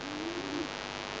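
English Roller pigeons at a loft give a soft, low cooing call in one short burst, close and alone.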